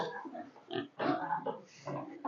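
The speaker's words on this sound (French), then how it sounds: "Filme les porcs là, filme les porcs, Junior." Three-month-old breed pigs of about 50 kilos grunting in a pen on a farm, several close, uneven grunts and snorts in short bursts, no speech.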